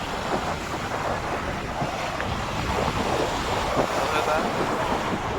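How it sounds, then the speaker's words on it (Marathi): Sea waves churn and crash amid gusting wind buffeting the microphone, a continuous roaring wash close by. "समुद्राला लाट आहे तर वारा पण आहे"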